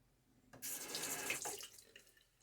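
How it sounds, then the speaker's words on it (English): Tap water splashes at a sink as shaving lather is rinsed off a face, a quiet burst of running and splashing lasting about a second before tapering off into drips. "I rinse all kind of the foam away"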